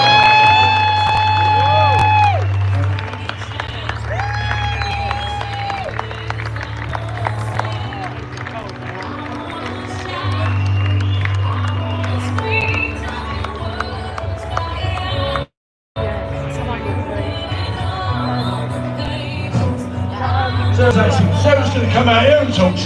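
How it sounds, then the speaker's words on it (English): A crowd at a London protest rally claps and cheers for a speaker about to come out, with a loud, steady wash of applause and crowd noise and a brief drop near the end. "Give her a round of applause, please."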